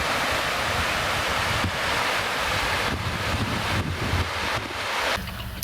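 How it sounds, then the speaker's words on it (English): A river in Scotland flows nearby with a steady, loud, broadband rushing roar that continues unbroken throughout, with no voices. "And behind me is the river."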